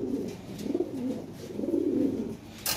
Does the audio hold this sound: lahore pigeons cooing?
yes